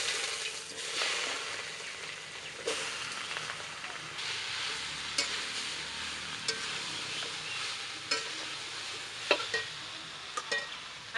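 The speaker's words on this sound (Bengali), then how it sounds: "ফোড়নটা তাহলে এখন দিয়ে দেবো পাঁচফোড়ন" Panch phoron tempering sizzles in hot oil, a steady close crackle with occasional stirring clatters and scrapes over about eleven seconds.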